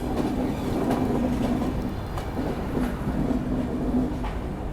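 A train at New Tinsukia railway station, heard as a steady low rumble with a faint droning hum, close and continuous with no talk.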